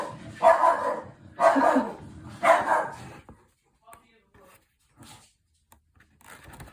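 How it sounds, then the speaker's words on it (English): A dog barks three times in a steady rhythm, fairly close, followed by quieter scattered noises and near silence. "excuse me if you can hear my dog"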